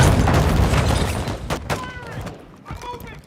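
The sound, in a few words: gunfire in video game Call of Duty MW2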